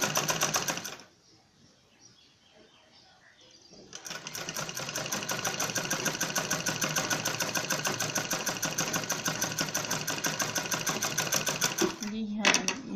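A sewing machine stitches a zippered bag made of fur cloth, running in a steady, loud, continuous whir for most of the clip after a quiet start, with a brief pause near the end.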